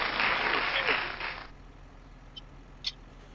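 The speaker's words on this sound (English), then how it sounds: "Give her a round of applause." A short burst of canned applause during a Farming Simulator 25 livestream, bright and loud for about a second and a half before cutting off, followed by near silence with a couple of faint clicks.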